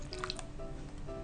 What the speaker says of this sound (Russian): Вливаем воду